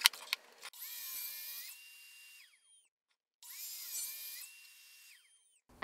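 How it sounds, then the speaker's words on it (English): Wood router cutting dados in scrap wood: two high whining bursts of a spinning bit, each ramping up, running a second or so and winding down, with short clatters at the start and end and a quiet gap between. "I would have just continued to route those dados on this piece over here"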